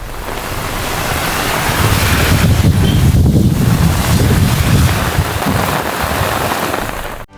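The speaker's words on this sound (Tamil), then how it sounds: "திருவாரூர் மாவட்டத்தின் பல்வேறு பகுதிகளிலும் காலை முதல் காற்றுடன் கூடிய கனமழை பெய்து வருகிறது" Heavy rain driven by strong wind across Thiruvarur district, a steady loud roar of downpour and gusts buffeting the microphone for several seconds with no voices.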